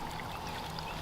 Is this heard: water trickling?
yes